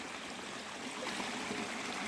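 A clear stream of clean water flows steadily at a bathing spot, producing a continuous close hiss and babble with an even loudness and no voices.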